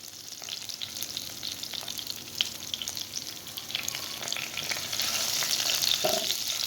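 Ginger tadka sizzles hot as it meets moong dal, a steady dense crackle and hiss that swells slightly toward the end, close and alone.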